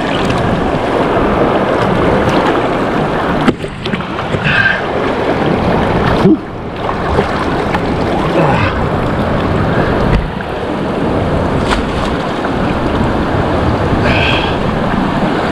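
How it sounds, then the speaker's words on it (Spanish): Strong river current in the Huasteca Potosina rushes continuously, a loud broadband roar of churning water with wind buffeting the microphone and a few brief splashes or knocks. "Ahí la corriente está fuertísima y no me deja avanzar más."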